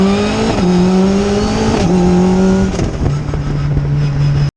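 A BAC Mono road-legal formula car accelerates hard and close, its engine note climbing and then dropping sharply at each of two pneumatic gear shifts before settling into a steady higher-gear drone. There is no talk.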